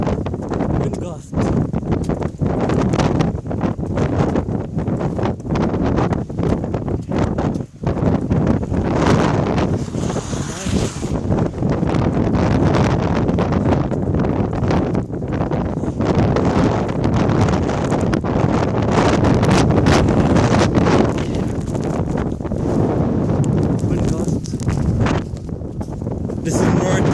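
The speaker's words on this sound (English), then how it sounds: "Wind gust." Strong wind gusts roar continuously during a March snowstorm, buffeting the microphone in a loud, rough rush, with voices speaking underneath.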